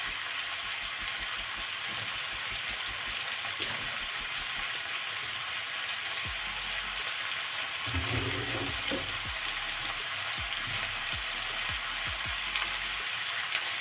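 Curry leaves sizzle steadily in hot oil for a traditional chicken roast, a continuous bright hiss with occasional spatters and low stirring knocks throughout.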